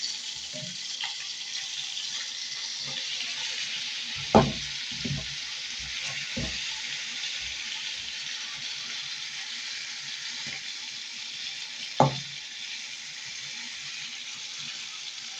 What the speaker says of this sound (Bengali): এরকম মুরগি আমার ভাজা খেতে খুবই ভালো লাগে।